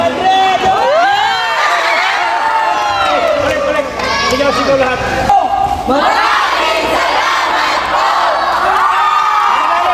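Loud, dense crowd shouting and cheering at a lively first feeding event, with high excited voices and whoops swelling continuously throughout, dipping briefly near the middle before surging again.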